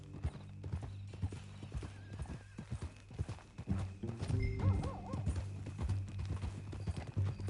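Horse hooves clip-clop at a walk on a Red Dead Redemption 2 ranch ride, with a whinny rising midway, steady footfalls close by beneath music and faint speech.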